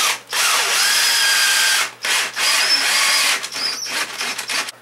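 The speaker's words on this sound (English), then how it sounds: "I'm just gonna hit the back with some super glue and put a screw in it, hold it in." A power drill drives a screw into the bottom of a walking stick, whirring loudly in three bursts, the last one bogging down and stuttering as the screw seats.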